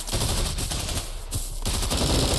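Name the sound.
gunfire from the video game Bullet Force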